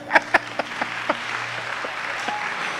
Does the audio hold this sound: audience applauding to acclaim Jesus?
yes